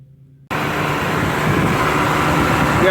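A 1990 Eagle Talon TSI with an exhaust leak fires up after silence and settles into a loud, rough, steady idle heard up close.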